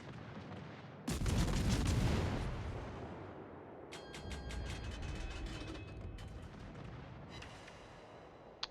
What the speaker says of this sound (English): there's some torpedo hits right there